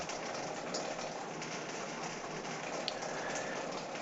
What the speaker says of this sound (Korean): 우리 집은 빗소리가 많이 들리는 집이에요.